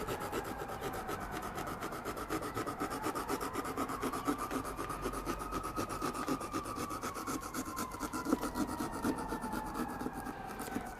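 A knife cuts a hole in the top of a Halloween pumpkin with a continuous rasping scrape of quick back-and-forth strokes, close up and moderately quiet.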